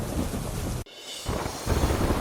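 Heavy rain on the Statue of Unity road in Gujarat makes a dense, loud roar of downpour that breaks off abruptly for a moment, then returns just as heavily.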